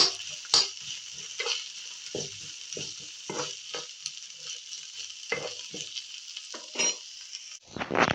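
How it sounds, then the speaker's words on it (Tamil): Onions sautéing in a pan, a bright steady sizzle close by with soft intermittent stirring taps and scrapes throughout. "இப்போ என்னோடய வெங்காயம் வதங்குது"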